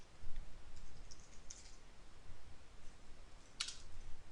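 Soft typing on a computer keyboard, sparse quiet key clicks in a near-silent room with no talking.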